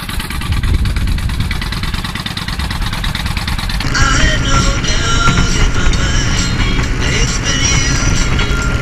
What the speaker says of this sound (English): Oh my god, motorcycles are so much fun.